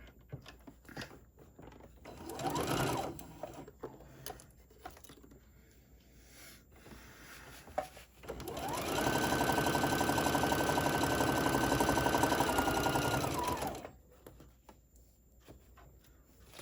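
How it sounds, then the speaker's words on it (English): A sewing machine stitches a drawstring Santa bag: a brief burst of whirring early on, quiet handling and clicks, then a long steady mechanical run of several seconds close by, with no talking. "let's just go sew up the other side."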